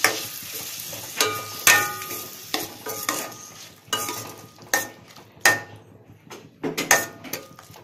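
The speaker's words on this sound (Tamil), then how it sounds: "இப்போ தக்காளி சேர்த்துடலாம். இது நல்லா வதங்கட்டும்." Tomatoes sauté in a pan for crab pepper masala, with a soft sizzle under repeated loud scrapes and clanks of a spatula stirring against the pan, close and irregular.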